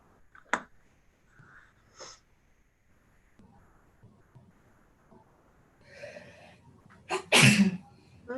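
During a city council meeting held over a video call, someone sneezes once, loud and close, near the end, after a few faint breaths and rustles with long quiet gaps between them.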